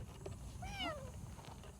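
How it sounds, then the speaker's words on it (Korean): A tiny kitten found crouching in grass in a remote rural spot gives a single thin, plaintive meow, close and clear against faint background hiss. "애미라도 찾는지 슬프게 우는 고양이가 딱하기는 해도"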